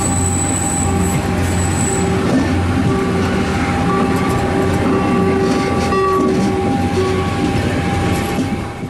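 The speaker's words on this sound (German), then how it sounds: "Pünktlich um kurz nach 11 verlässt der Zug die Mole in Richtung Niebüll." A railcar built by Jenbacher Werke pulls away from the Dagebüll Mole toward Niebüll, with a loud, close rumble, rail squeal and clatter of wheels, and a horn-like tone early on.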